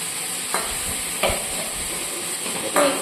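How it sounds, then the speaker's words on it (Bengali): Spice paste frying in a pan, a steady faint sizzle with three or four short scraping stirs at intervals, no talking. "একটুখানি ভেজে নেবো কাঁচা গন্ধটা চলে যাবে"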